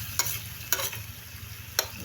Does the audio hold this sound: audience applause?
no